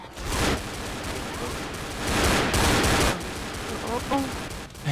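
Gunfire in a first-person shooter match, dense bursts of shots layered with game effects, loud and steady across the whole stretch with a few sharper peaks, no speech.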